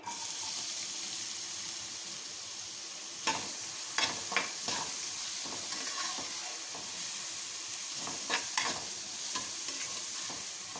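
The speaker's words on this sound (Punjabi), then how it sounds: "ਪਿਆਜ਼ ਨੂੰ ਹੁਣ ਥੋੜੀ ਦੇਰ ਲਈ ਭੁੰਨ ਲਾਂਗੇ" Finely chopped onion fries with cumin in a pan, a steady soft sizzle with a few scraping stirs. Quiet and close, with no talking.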